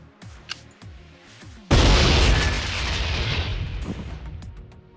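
A grenade detonates in the video game Memories of Mars: a sudden, loud, deep boom that rolls into a long, roaring rumble of debris and noise lasting several seconds after some quieter game sounds.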